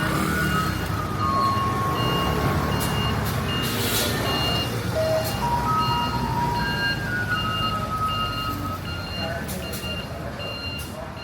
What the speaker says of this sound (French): Même le camion poubelle a sa propre mélodie pour avertir de son passage.